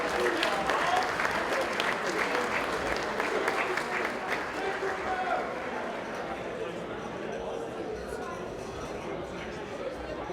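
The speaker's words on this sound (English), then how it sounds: "One more round of applause for Rip-Off High School." A large crowd applauds steadily for a high school esports team being named state champions at an awards ceremony, dense clapping with some cheering and chatter mixed in, loud at first and easing slightly toward the end.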